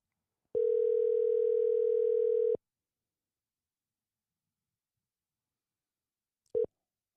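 Telephone dial tone heard while calling someone back, a steady two-second tone that stops abruptly, then silence and a brief short beep several seconds later.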